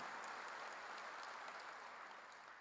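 A church congregation breaks into faint, distant applause during a Korean sermon: a soft, even wash of clapping that thins slightly toward the end.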